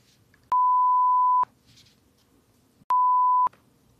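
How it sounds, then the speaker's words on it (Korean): Two clean electronic tone beeps, steady and mid-pitched, the first lasting about a second and the second shorter, separated by quiet low background noise. "계속 삐 소리가 나겠지?"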